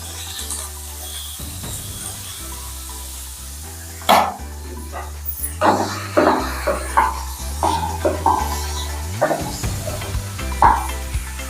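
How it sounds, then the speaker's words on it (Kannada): Mixed vegetables hit hot oil for a South Indian palya, setting off a sizzle that grows into a busy crackle with spatula scrapes and clatters against the pan. "ಎಣ್ಣೆ ಬಿಸಿಯಾಗಿದೆ ಇವಾಗ ಎಣ್ಣೆ ಒಳಗೆ ಎಲ್ಲ ತರಕಾರಿನೂ ಹಾಕ್ಬಿಟ್ಟು ಫ್ರೈ ಮಾಡ್ತೇನೆ"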